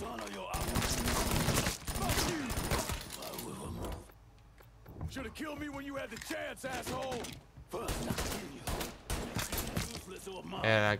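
Rapid gunfire and blind-fired bursts in the video game Mafia 3, loud and dense in the opening seconds, then sporadic shots mixed with game effects, with a voice speaking over parts of it.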